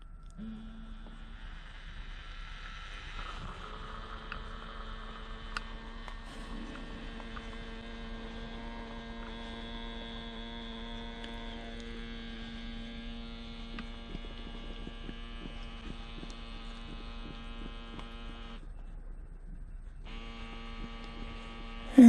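A model submarine blowing its ballast tank produces a continuous steady mechanical hum and whine that holds for over twenty seconds, briefly dropping out near the end, close and moderately quiet with no talking.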